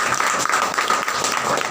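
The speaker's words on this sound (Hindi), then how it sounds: "इनके लिए जोरदार तालियां" Audience applause for students selected at a ceremony held by Akhand Sainya Ekta office-bearers: a steady wash of many hands clapping, fairly loud and continuous, with faint voices mixed in.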